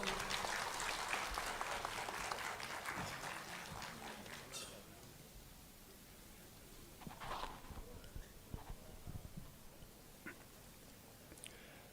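Applause at a youth convention hall in Imphal, Manipur, honouring a speaker: fairly dense clapping fades over about four seconds into scattered, distant claps and light room noise.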